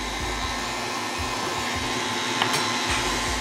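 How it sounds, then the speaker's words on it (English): A hand mixer runs continuously through pumpkin muffin batter, a steady close whirring motor drone with slight rattling and no pauses, and no voices. "You can do this with a hand mixer."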